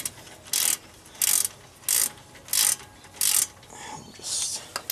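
A ratchet with a 14mm socket works a brake caliper bolt loose on a Toyota Corolla, making five evenly spaced bursts of rapid clicking close by, with a softer, longer stretch of ratcheting near the end.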